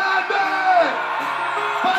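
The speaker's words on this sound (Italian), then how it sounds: "voglio sentire l'urlo più grande!" A television talent show studio audience, The Voice in Italy, screams and whoops loudly in a sustained, dense roar with voices shouting through it.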